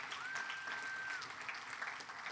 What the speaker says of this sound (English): If we could give them another round of applause